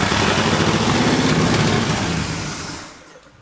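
Lifted Cadillac engine, run again after sitting for three years with makeshift exhaust pipe fitted, drones loudly and steadily up close before fading down at the end.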